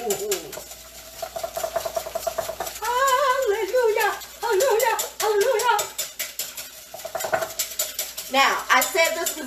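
A whisk beats an egg mixture with cinnamon and vanilla in a bowl. It clicks and taps quickly and steadily against the sides, while a person talks over much of it in an animated way.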